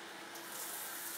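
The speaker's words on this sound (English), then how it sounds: "Outdoor shower." Water runs steadily from an outdoor shower in a brand-new Maldives beach villa bathroom, a soft, even hiss that swells slightly after the first moment, with no one talking.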